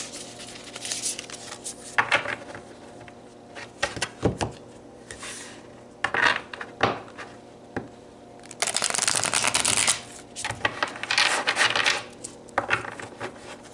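Tarot cards are shuffled in repeated bursts of riffling and sliding paper, separated by short pauses, close by and clear, with no speech.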